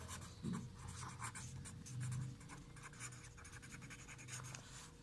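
Pen writing numbers by hand on paper for a primary maths lesson, a soft continuous scratching of strokes with brief louder scrawls, close and quiet with no talk.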